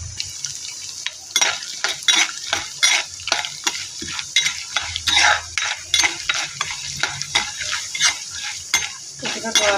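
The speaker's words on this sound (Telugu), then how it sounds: "కొద్ది జీలకర్ర, కొద్ది ఆవాలు, కొద్ది మినపప్పు వేసుకొని దోరగా వేపుకోవాలి." Cumin, mustard seeds and urad dal sizzle and crackle in hot oil for idly upma while a spoon scrapes and clinks against the pan in a quick, steady stirring rhythm, close and alone.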